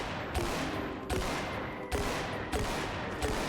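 Repeated gunfire from a pumpkin-shooting target practice minigame in Tower Unite's Halloween event, sharp shots spaced roughly every second over a steady background, loud and close with no talk.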